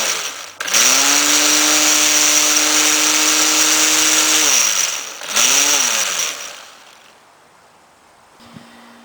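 A vintage Black & Decker electric lawn trimmer starts up with a loud, steady high-pitched motor whine. It winds down, briefly revs up again, then cuts off into near silence.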